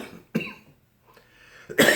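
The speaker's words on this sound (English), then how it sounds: "I'm having this fucking cough" A man coughs, with a short harsh cough near the start and another loud burst at the end, separated by near silence.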